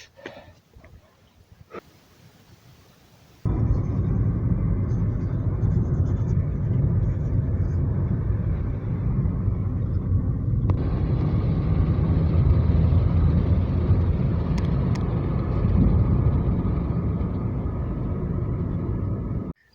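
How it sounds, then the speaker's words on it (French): A car on a Montenegrin mountain road rumbles in after a quiet start, its low engine and tyre noise growing loud and steady, then holding as it passes close by. "j'entends une voiture"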